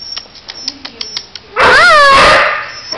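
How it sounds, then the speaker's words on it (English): Black Labrador puppies in an animal shelter give a few soft clicks and yips, then one loud, close, drawn-out whining bark that lasts about a second. "Here's the 3 black lab pups."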